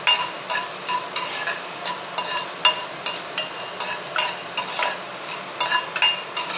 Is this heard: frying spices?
yes